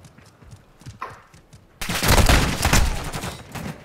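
Gunfire in Call of Duty: Modern Warfare II: a few sparse, quieter hits are followed by a sudden loud burst of rapid shots and blasts that continues densely to the end.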